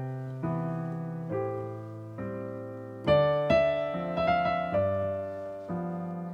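A jazz piano plays a tune using sparse guide-tone chords, held voicings changing about once a second with a brighter middle passage, fairly soft and close, no speech.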